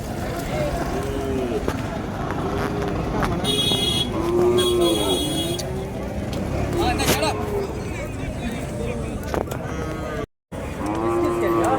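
Cattle at a livestock market in Kundarapalli, Krishnagiri district, Tamil Nadu, lowing repeatedly and fairly close over a busy crowd murmur, with someone talking throughout and a faint horn toot in the mix.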